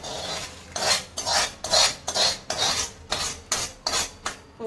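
Tempering (popu) being added to kadambam prasadam, a mixed vegetable and rice offering, then stirred in a pot: a run of about nine loud, evenly spaced scraping and clinking spoon strokes against the vessel, with no talk.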